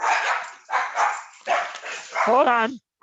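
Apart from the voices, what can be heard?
dogs barking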